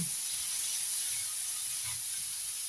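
Noodles stir-frying in a wok of oil give a steady, soft sizzling hiss that runs evenly throughout, with faint low clatters underneath and no voices.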